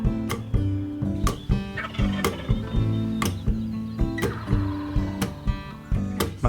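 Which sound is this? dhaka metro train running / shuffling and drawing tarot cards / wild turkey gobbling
wild turkey gobbling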